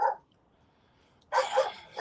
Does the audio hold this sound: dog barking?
yes